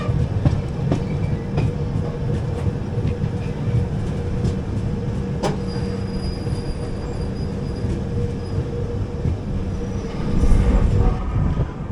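The 12805 Janmabhoomi Express runs on rails as it curves right, heard from inside an AC Economy coach: a steady rolling rumble with faint wheel squeal and occasional clicks.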